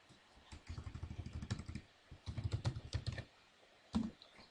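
Keys on a computer keyboard clack in two quick bursts of typing, close and crisp, ending with one firmer keystroke.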